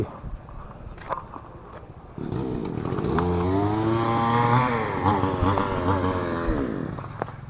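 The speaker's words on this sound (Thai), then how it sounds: "อันนี้เพิ่นกำลังตัดหลักตัดตัดเอที่ตั้งกระถาง" A power saw cuts wooden posts for a plant pot stand made from recycled material. The motor whines up and holds a loud, rising and falling cutting tone, with bumps and knocks before and after.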